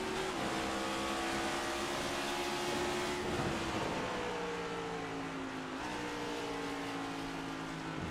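Race cars with five-speed gearboxes lapping New Hampshire Motor Speedway, distant engine drones whose pitch climbs and then drops sharply at each gear shift, a steady faint roar with no talk over it.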